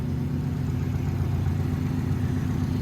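A 2008 Subaru STI with an aftermarket turbo runs steadily nearby, a loud continuous low engine drone with no revving or speech.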